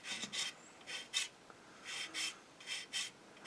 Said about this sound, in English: obviously we need to run the sander around the curve